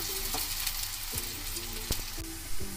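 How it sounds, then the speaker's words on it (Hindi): Chopped onion frying in a pan until golden brown, a close continuous sizzle with a few light stirring knocks, no voices. "इसको अब हम थोड़ा सा भून लेंगे जब तक ये गोल्डन ब्राउन नहीं हो जाएगी"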